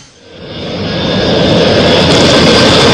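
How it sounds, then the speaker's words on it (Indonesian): Jet engines of a Boeing 737 Classic 400 VIP aircraft swell into a loud, steady roar with a high whine, rising over the first second and then holding close and continuous. "Menggunakan pesawat Boeing 737 Klasik 400 VIP, Panglima TNI Jenderal Muldoko tiba di Lanut"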